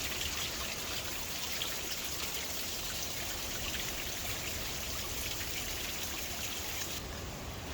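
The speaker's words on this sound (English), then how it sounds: "Let me just call it a creek, run down from where the spring source is at." Spring-fed creek running downhill near the Soup Bowl at Bathsheba, St. Joseph, Barbados, a steady close trickle and patter of flowing water that holds even and unbroken throughout.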